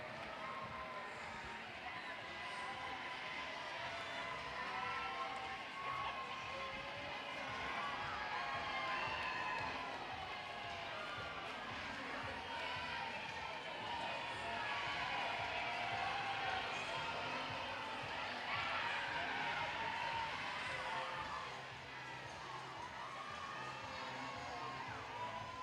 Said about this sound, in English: Let's give them a big round of applause and a whole lot of love.